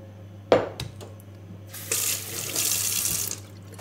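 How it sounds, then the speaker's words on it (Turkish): Raw chickpeas being rinsed under a running kitchen tap, with a sharp clink near the start and then a steady broadband splash of water into the sink for the last couple of seconds. "Nohutu da yıkayacağım."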